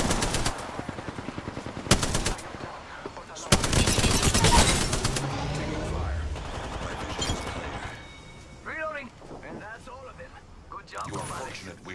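Rapid automatic gunfire in an Apex Legends match opens with sharp repeated bursts and a long loud volley, then fades as game voice lines and a player's speech take over.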